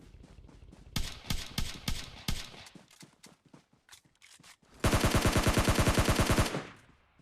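Gunfire in the mobile shooter PUBG Mobile Lite: a few spaced single shots, then a string of quick bursts, a pause, and a loud sustained automatic volley lasting nearly two seconds before fading.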